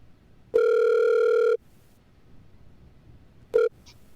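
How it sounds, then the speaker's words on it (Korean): A long electronic ringback tone lasting about a second, then quiet line noise, then the start of a second tone cut short as the call connects. "윤 이사님을 전화로 연결해 보도록 하겠습니다."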